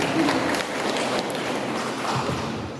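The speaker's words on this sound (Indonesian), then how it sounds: "Sekali lagi tepuk tangan untuk BSP." Audience applause at a waste management training event, a steady crowd of clapping hands with some scattered louder claps, fairly close and continuous.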